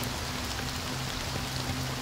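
Steady, dense rainfall pours down in the video game Honkai: Star Rail, an even hiss of drops with a low hum beneath, unbroken and with no voices.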